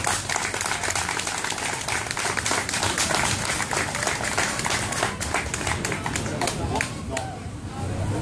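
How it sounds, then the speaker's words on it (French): An audience at a ploughing contest award ceremony claps loudly, with sharp individual claps standing out and crowd chatter mixed in, easing slightly toward the end. "vous pouvez l'applaudir très fort"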